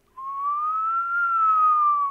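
A single clear whistled tone held for about two seconds, rising slightly in pitch and then settling back, alone in silence.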